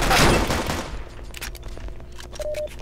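A single gunshot fires in the Roblox Arsenal video game, a loud burst that trails off into a decaying echo, followed by faint clicks and a short electronic tone.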